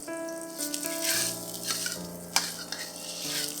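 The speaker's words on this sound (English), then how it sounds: "Fry these till they're fragrant." Preserved black beans and fermented soybean cubes fry in a hot pan, giving a steady close sizzle with soft stirring scrapes and a clink of utensils, under quiet background music and no talking.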